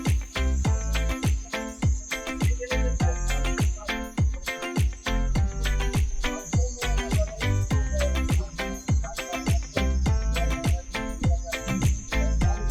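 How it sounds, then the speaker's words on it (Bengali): Crickets chirp in a pine forest in Spiti Valley, a steady high drone with rhythmic clicking pulses repeating throughout. The sound is loud, continuous and without voices. "চারিদিকে পাইন বন, ঝিঝি পোকাটা একদম প্রমিনেন্টলি শোনা যাচ্ছে।"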